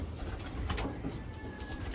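Soft, low pigeon cooing murmurs through a steady background hum, close by and fairly quiet, with no talking.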